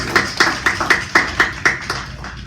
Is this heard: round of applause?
yes